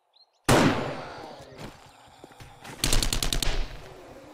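SMG fire in the video game 7 Days to Die, loud and close: a sharp opening shot and some scattered reports, then a fast burst of about seven rounds.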